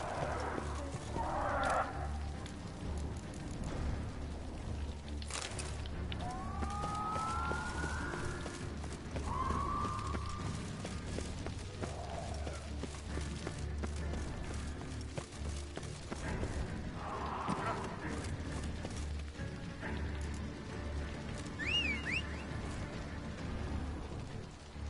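Geralt's horse Roach in The Witcher 3 whinnies a few times over a constant outdoor rumble, with faint hoof clatter mixed in and no clear speech.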